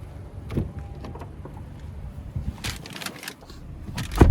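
Someone settles into the driver's seat of a 2014 Acura RLX Advanced with a 3.5-liter V6 and 120,000 miles: soft rustling and shuffling, a few light clicks, then a sharp close thump near the end.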